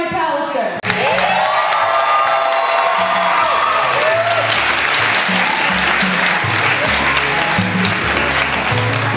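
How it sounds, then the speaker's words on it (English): An audience at a live poetry slam breaks into loud, sustained clapping and cheering with whoops, a dense wall of applause that carries on throughout, with a voice speaking briefly at the start. "going to ask you to clap as loudly as you possibly can with as much excitement as you can muster for Levi McAllister"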